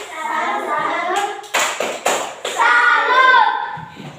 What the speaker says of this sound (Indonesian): beri tepuk tangan untuk Salut!